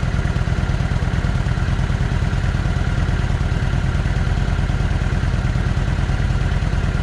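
A Kawasaki Vulcan 900 motorcycle idles, its engine producing a loud, close, steady low rumble with a rapid even pulse that runs unbroken throughout.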